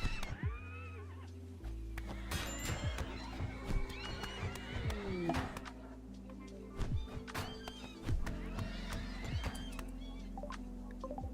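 Horses in a video game whinny and neigh with clip-clop hoofbeats and dull thunks as one is attacked with melee weapons for meat in a snowy setting, a busy layered game soundscape that runs steadily throughout.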